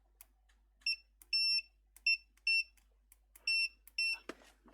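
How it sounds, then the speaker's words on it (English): Multimeter continuity test on a Chiayo SM-110irda mic pack headset during repair, giving a series of short electronic beeps in irregular bursts with faint clicks of probes between, quiet and close. "So, multimeter, and we just want a continuity."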